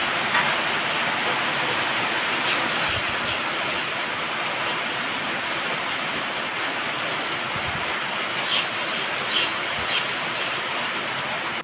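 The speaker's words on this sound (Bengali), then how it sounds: "আমাদের এখানে বৃষ্টি পড়ছে।" Steady rain falling outside, a dense continuous hiss with faint scattered patters and clicks, heard close and alone without talk.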